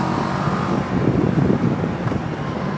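A Kawasaki ER6N 650 motorcycle rides along a road, its engine a steady low drone blended with rushing wind across the microphone, constant and fairly close, with no talking.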